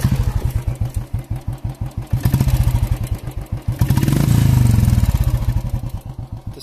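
A modified Royal Enfield Classic 350 thumps steadily at idle, its single-cylinder exhaust beating a loud, even rhythm that swells briefly as the throttle is blipped and then settles back. No one speaks.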